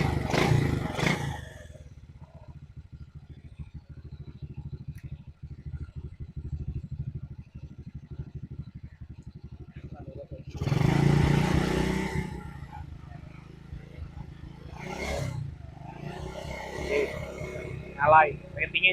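A classic motorcycle engine idles at a low steady putter, with bursts of revving and clattering, while someone talks over it in a showroom.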